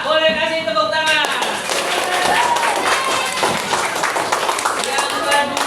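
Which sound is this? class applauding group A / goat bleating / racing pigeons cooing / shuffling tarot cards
class applauding group A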